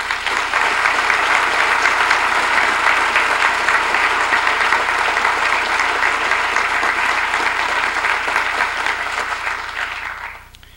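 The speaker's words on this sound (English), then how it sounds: "We applaud you tonight." Sustained audience applause at a mayor's State of the City address, loud, dense clapping lasting about ten seconds before fading out at the end, with no talk over it.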